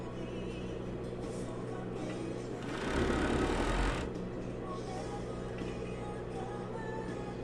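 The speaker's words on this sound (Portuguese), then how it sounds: "A máquina que eu estou usando é a 4 fios, ok?" A 4-thread overlock sewing machine stitches a blouse, its steady motor whir running throughout and swelling into a louder, denser burst for about a second midway.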